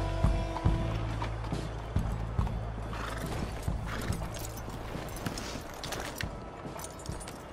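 Horses in the Red Dead Redemption 2 video game whinny and neigh over steady clip-clopping hooves, close and fairly loud, with game ambience and sustained low tones underneath.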